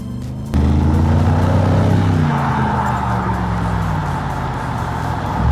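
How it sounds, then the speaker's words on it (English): Mercedes G63 AMG engine switched into Sport Plus mode, a deep loud rumble that surges abruptly, with the revs rising and then easing into a steady throaty drone from inside the cabin. "you can hear all that engine sound"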